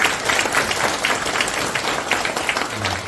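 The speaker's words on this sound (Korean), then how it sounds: "뜨거운 박수와 성원 다시 한번 부탁드립니다." Audience applause from local township residents at a special invited lecture by a former Korean unification minister, a dense, steady wash of many hands clapping throughout, loud and sustained with no voices over it.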